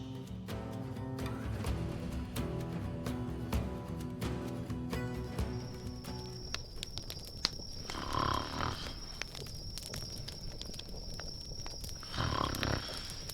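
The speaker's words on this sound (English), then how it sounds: "She snores worse than you." A character in the video game The Vale snores twice, slowly and raspily, after background music fades out. The snores are faint and spaced several seconds apart.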